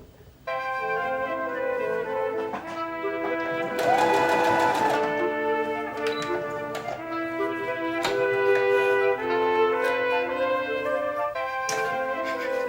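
A sewing machine stitches a reusable shopping bag, its motor humming in a close, steady run with rising and falling mechanical tones and brief clicks between bursts.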